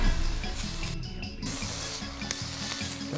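Thick pork fillets sizzling steadily in a hot pan, a close, continuous bright hiss and crackle with no talk.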